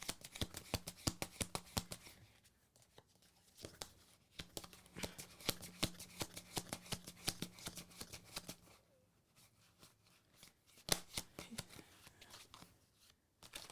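Tarot cards shuffled and sorted by hand, with dense runs of crisp riffling flicks and slaps broken by short pauses, close and soft.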